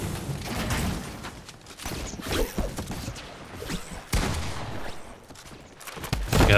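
Gunfire in Fortnite Zero Builds ranked solo play, with bursts of in-game shots and impacts recurring over several seconds at moderate loudness, mixed with game effects and no talk.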